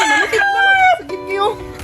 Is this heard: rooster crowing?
yes